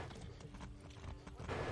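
Horse hooves clip-clop at a steady walking pace in the video game Far Cry 6, faint and mixed into a noisy game soundscape.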